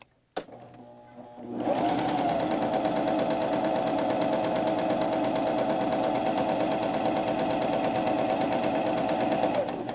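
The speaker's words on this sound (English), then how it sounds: "I'll put the needles in the down position like this and start sewing." A cover stitch machine sewing a hem, a brief click and short start before settling into a loud, steady, fast mechanical whir that runs close and unbroken to the end.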